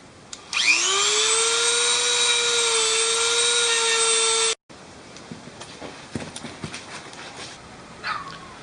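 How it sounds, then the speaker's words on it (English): A Dremel rotary tool grinds off chain rivet heads on a motorcycle rear sprocket, revving up into a loud, steady high-pitched whine for about four seconds before cutting out, followed by quieter scraping and clicks. "I'm just going to grind it while it's on the rear sprocket here so it's nice and stable."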